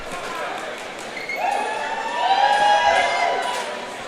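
A Danish crowd cheering at a roller derby World Cup match against Black Diaspora, a swelling arena roar with shrill whistles and skate squeaks rising midway, under a commentator's voice.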